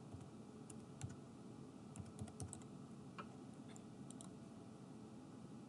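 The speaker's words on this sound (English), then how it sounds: "Enter your password as well." Quiet, irregular keystrokes on a computer keyboard as a password is typed, in short bursts of clicks with pauses between them and no talking.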